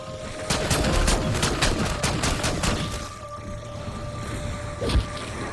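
An automatic shotgun in Black Ops 6 fires a rapid string of loud, closely spaced blasts for about three seconds, followed by a quieter stretch and one last isolated shot.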